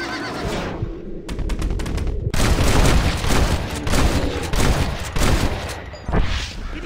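Gunfire aimed at a bear in the Red Dead Redemption video game: rapid, loud shots crackle in bursts amid agitated animal sounds and dense game noise.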